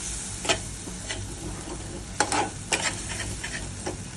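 Spices fry in a pan with a steady sizzle while a utensil knocks and scrapes against the metal in irregular taps, loud and close, with no talking.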